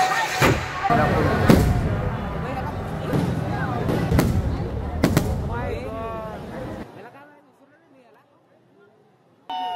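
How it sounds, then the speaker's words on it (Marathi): Firecrackers bursting during a Dussehra festival in Kavathe Ekand, Sangli: dense, rolling volleys of loud bangs and crackles with sharp sudden blasts, continuing for several seconds before cutting to near quiet. "हे फटाके फुटत असताना दोन प्रश्न मनात आले।"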